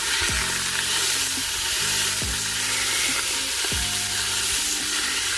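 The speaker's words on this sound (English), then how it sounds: "I'm just going to drop that beef down in it. You hear that sizzle?" Loud, steady sizzling of beef frying in a hot pot for vegetable soup, with a few dull scraping knocks as it is stirred.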